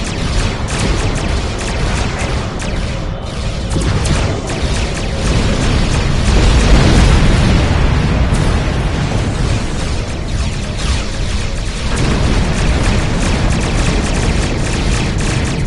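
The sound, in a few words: weapons fire and explosions in Star Trek Online video game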